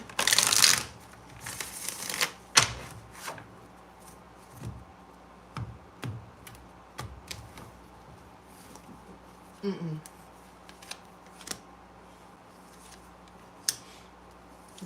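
Tarot cards being shuffled in a few brisk riffling bursts, followed by scattered soft taps and card handling, close up with no one talking.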